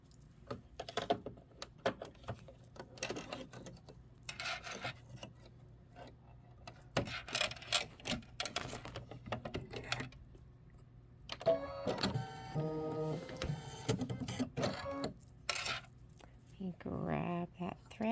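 An embroidery machine stitches little flames in quick repetitive mechanical tapping and whirring, in bursts and then a denser steady run, with talking heard over parts of it.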